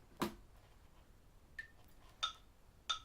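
Faint, sharp metronome ticks spaced unevenly, three or four in a row, with a quiet background between them.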